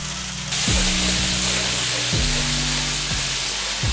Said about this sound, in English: Tomatoes have been sauteing over a low heat for a few minutes